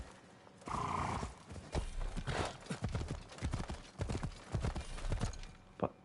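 Horse hooves clop in the video game Assassin's Creed Shadows, a close, uneven run of galloping beats with a brief whinny-like burst near the start, alone without talk.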